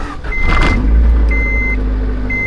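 A jump-started Acura Integra car engine turning over and catching, then settling into a steady low idle, close and loud with a thin high whine above, no talk.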